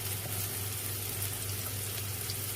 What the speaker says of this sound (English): I am just frying the onions until they changes its color.